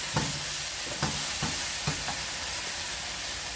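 Beef chow mein stir-fried in a wok, a steady hiss of sizzling under sharp scraping strokes of the spatula, four or five of them in an uneven rhythm, close by.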